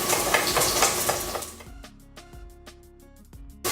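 A knife chops fresh dill and chives on a cutting board, giving a series of sharp, irregular taps close by. They start under a sizzling frying background, then ring out more clearly once it drops away.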